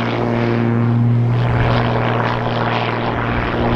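An Xtreme Air XA41 aerobatic plane flies freestyle aerobatics at an airshow, its propeller engine giving a loud, steady droning roar with a strong low hum throughout.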